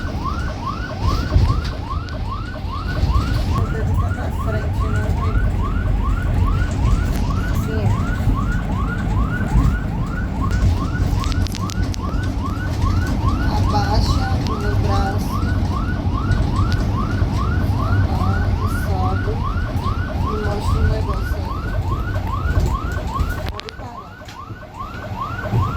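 An ambulance siren wails continuously in a rapid rising yelp pattern for the whole stretch, loud and close over road rumble, then cuts off near the end, with no voices.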